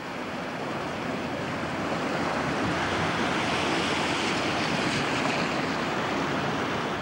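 Swollen floodwater churns through the Avon river sluice in April 1998, a loud, dense and continuous roar of turbulent water with wind buffeting the microphone and no voices.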